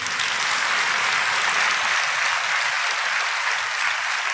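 A church congregation applauds during a Telugu sermon, a steady, dense roar of many hands clapping at a constant loud level with no pauses or speech over it.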